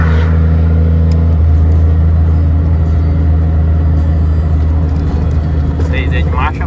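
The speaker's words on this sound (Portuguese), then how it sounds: "Tá descendo sozinho, vou ligar o freio motor." A loaded Volvo FH 380 truck descends a mountain road in a low gear with the engine brake on, giving a steady, deep droning engine hum with strong low tones that holds throughout, close and loud inside the cab.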